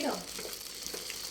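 Roasted chickpea (daliya) ladoo mixture being stirred in a pan gives a soft, steady scraping sizzle, with a brief muffled voice near the start.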